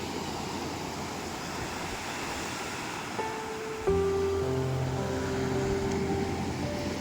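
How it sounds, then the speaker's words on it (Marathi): Blue sea waves rolling in at Kondura beach, a steady broad roar of surf close by, joined partway through by a sustained tonal hum layered over the wash. "आणि लाटा बघा आता हळूहळू वाढाक लागलेत."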